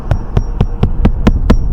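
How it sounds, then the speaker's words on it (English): A hammer drives a nail into a roof shingle in seven evenly spaced, sharp, close strikes, with no talking. "I'm going to attempt to nail this in"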